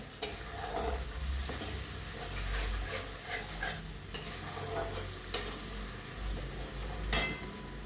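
A spoon scrapes and stirs through masala sizzling in a hot pan for paneer matar, with soft rhythmic strokes over a steady frying hiss.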